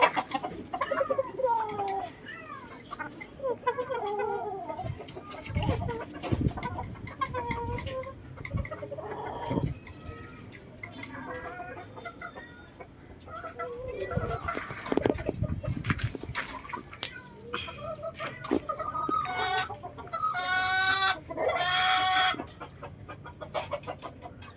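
Backyard fighting-cock chickens cluck and call near and far in irregular bursts, with a few crowing-like calls and louder flurries toward the end, under light ambient noise.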